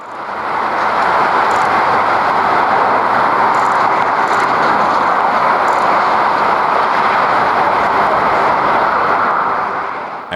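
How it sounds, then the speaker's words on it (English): A jet airliner at Frankfurt Airport on a takeoff roll too fast to abort, producing a loud, steady, broad roar that holds for about ten seconds without talk. "The plane was going too fast to abort the takeoff, but immediately returned for an emergency landing."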